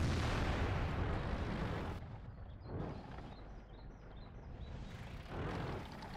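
A T30 tank gun fires in World of Tanks, a loud booming blast with a dense rumbling tail that fades, then a second heavier burst follows, with no talk.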